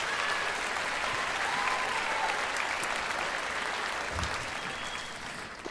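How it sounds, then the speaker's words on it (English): An audience claps warmly for young performers at a school beginning-ensembles winter concert, a dense, sustained round of applause filling the room. "give all of our performers a big warm round of applause for being here and putting on a show tonight"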